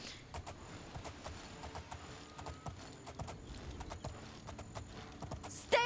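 Hooves of a horse running in the video game Oblivion, a steady clip-clop of hoofbeats on a road with brief sharp game sounds over a continuous ambient bed, ending in a louder burst.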